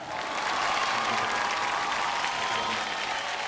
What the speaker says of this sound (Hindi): बहुत एक बार जोरदार तालियां फॉर अमिताभ बच्चन